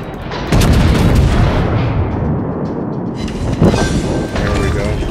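Heavy naval shell impacts in the World of Warships game, a sudden loud booming onset followed by sustained rumbling roar and a second thud, with faint voice underneath.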